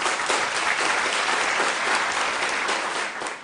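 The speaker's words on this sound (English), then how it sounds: "A round of applause for both teams, please." Steady, dense applause from a quiz audience cheering on both junior teams, filling the room evenly before tapering at the end.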